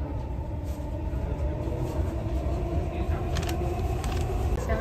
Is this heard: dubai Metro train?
yes